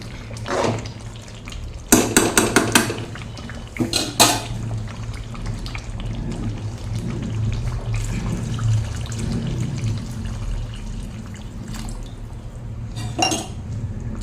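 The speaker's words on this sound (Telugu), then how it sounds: "నూనెలో బాగా ఉడికిపోయింది కదా ఇప్పుడు వాటర్ వేసుకుందాం" Water is poured into a pan of chicken curry cooking in oil, giving a steady liquid wash across the clip, with several sharp clinks of a utensil against the pot near the start and again near the end.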